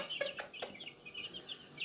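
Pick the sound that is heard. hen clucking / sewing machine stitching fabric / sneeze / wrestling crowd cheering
hen clucking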